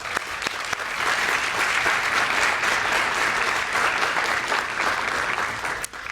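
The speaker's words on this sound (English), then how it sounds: "Let's give him a round of applause" Steady applause from an audience at a youth summit competition, filling the whole stretch at an even, moderately loud level before thinning slightly at the end.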